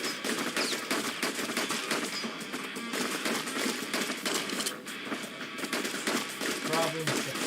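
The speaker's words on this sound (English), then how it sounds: "I'm just shooting that safely here" Rapid video game gunfire rattling in continuous bursts throughout, with a voice talking over the shooting.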